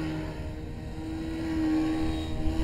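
CrazyBall radio-controlled model plane in flight, a steady droning motor buzz with a slight pitch rise as it passes, heard briefly outdoors.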